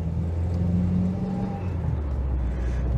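Renault Espace engine while driving, a steady low rumble with a wavering hum that drops slightly partway through, loud and close from inside the car.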